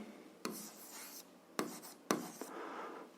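Chalk or marker writes on a board during a seventh-grade algebra lesson: several short taps and rubbing strokes, quiet and close, with no speech.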